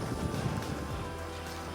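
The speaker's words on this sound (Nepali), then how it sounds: "हावा चलिरहेछ त यहाँ।" Wind gusts past the microphone at a riverside resort by the Bhote Koshi, a faint, steady rumbling rush with no talk.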